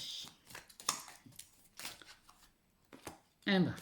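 Oracle cards are shuffled and drawn in a French tarot reading, with soft papery riffles and slides in short bursts and a louder shuffle at the end, while someone speaks.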